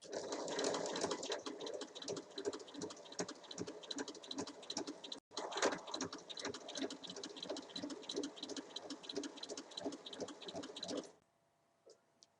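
A sewing machine joins three fabric pieces for a small coin purse, running in a fast, steady mechanical chatter with one brief pause midway, then stopping near the end, close and with no speech.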